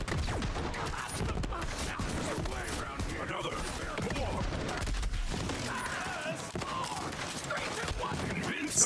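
Gunfire rattles in Borderlands, dense bursts of shots and impacts rolling almost continuously at close range with busy game noise.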